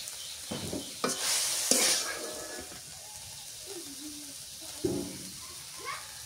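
Leafy greens stir-fried in oil with salt in a home kitchen: a few sharp scrapes and clatters of a spatula in the pan over a faint background sizzle, with quiet household sounds between strokes.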